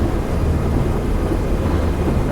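A P-47 or P-51 piston warplane engine roars at full takeoff power in the DCS flight simulator, a loud, steady, dense low rumble holding without a break throughout.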